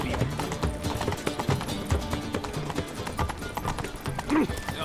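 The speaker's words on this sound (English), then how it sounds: "Whoa there, Roach." Horse hooves clip-clopping in the video game Witcher 3, a quick, steady, trotting beat of hoof strikes that runs through the whole stretch, with music and game sounds underneath and a brief snort near the end.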